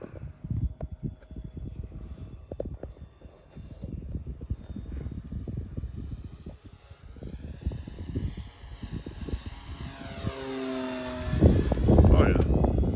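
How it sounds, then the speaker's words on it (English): A small scale-looking model Carbon Cub airplane flies on a windy day, its propeller engine droning and rising in pitch as it passes, with scattered gusty rumble and voices chatting underneath. "It's just a good flying little plane"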